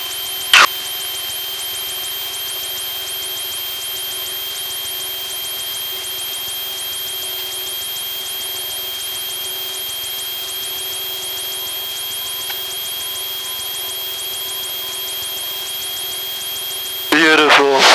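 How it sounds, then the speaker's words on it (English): Light aircraft engine droning steadily as the plane climbs out after a night takeoff from Fresno, a constant near and loud hum with a steady tone, broken only by a brief click near the start and a burst of noise at the end. "60 knots, rotating the aircraft,"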